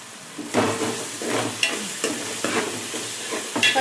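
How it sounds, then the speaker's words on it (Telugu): Spices frying in a pan for a fish curry, with a constant loud sizzle broken by repeated scraping strokes of a spoon stirring them, close and with no talking. "ఇది కొద్దిగా దోరగా వేగించుకోవాలండి, అంటే పచ్చి వాసన పోయేదాకా వేపుకోవాలి"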